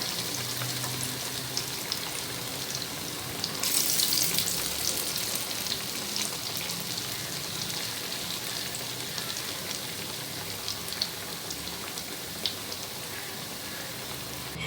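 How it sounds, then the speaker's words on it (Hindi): Potato and eggplant slices fry in oil over medium heat, giving a steady, close crackling sizzle with a brief louder burst of spattering partway through. "मीडियम आंच पे आपको सारी आलू की और बैंगन की कतलियों को फ्राई कर देना है।"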